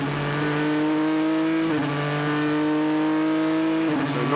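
An Aston Martin race car screams around the track during WEC qualifying at Bahrain, a loud sustained engine howl with sharp gear shifts as the revs rise and drop, no voices.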